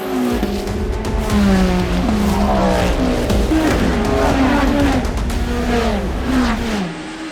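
Race cars roaring past at speed during the Le Mans race, engines revving and shifting pitch continuously, loud and close, with a dense track-noise background throughout.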